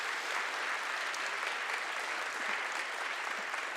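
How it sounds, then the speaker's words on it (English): Sustained applause from an award-ceremony audience honouring event volunteers, a dense, even wash of clapping that holds steady throughout without a break. "So a huge round of applause to all the volunteers team that are still in the building somewhere."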